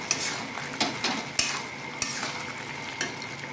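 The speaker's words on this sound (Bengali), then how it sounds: "দিয়ে এবার এটা নাড়িয়ে নেব।" Spices, Kashmiri red chili powder and salt, are stirred in a sizzling pan for a pointed gourd and prawn dish, with a steady fry hiss broken by sharp, irregular scrapes of the spoon against the pan.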